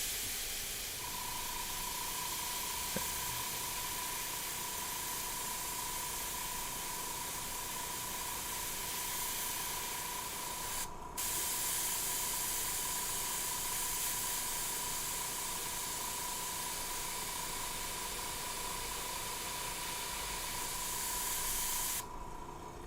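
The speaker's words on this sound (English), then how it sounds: "now I'm going to try to get a Wu-Tang symbol somewhat airbrushed here" An airbrush sprays paint in one long, steady, close hiss, with a faint constant tone beneath it and two brief sharp interruptions, and no voices.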